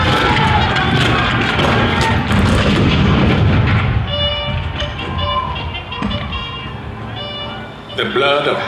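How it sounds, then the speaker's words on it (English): Civil War cannon fire at Fort Sumter, heavy booming thuds and rumbling blasts massed in the first half, then thinning into scattered lighter reports with a crowd-like roar and a late burst near the end. "The cannon spoke for war, bitter, violent, and devastating."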